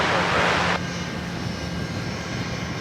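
Qantas jet airliner on the Sydney Airport runway, a steady broadband engine roar holding through the clip, louder at first then easing, with faint background noise and no clear speech.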